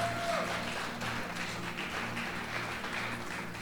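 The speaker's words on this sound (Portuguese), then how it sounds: "você vai aplaudir a Jesus nesse momento" A church congregation applauds during a worship service, a steady wash of many hands clapping at moderate volume that carries on evenly for a few seconds.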